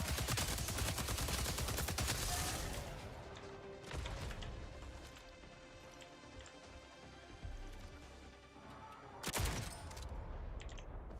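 Gunfire in the sci-fi video game Jump Space after switching to a sniper rifle: a dense opening volley of shots, then scattered sharp cracks and a loud burst near the end, over a steady game soundscape.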